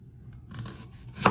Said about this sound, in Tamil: இப்படி எல்லாத்தையும் கட் பண்ணி எடுப்போம்